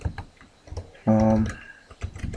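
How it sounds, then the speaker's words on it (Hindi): Fast typing on a computer keyboard while practising a line of text, a brief dense burst of key clicks amid scattered softer taps, close and moderately loud. "जैसे मैं कोई पर्टिकुलर लाइन टाइप कर रहा हूँ"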